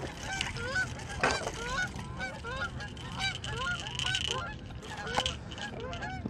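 Geese honk repeatedly in a noisy, overlapping flock near a fishing spot, a steady chorus of calls throughout.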